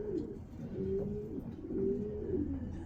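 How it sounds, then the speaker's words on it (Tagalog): Racing pigeon in a loft cooing close by, two drawn-out low coos in a row with quiet background. "Gandang ibon din to talaga."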